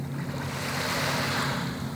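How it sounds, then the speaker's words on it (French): Gentle sea waves wash in a continuous hush of water off the Var coast, mixed with wind rumbling on the microphone and a low engine-like hum. "il n'y a que des légères vagues"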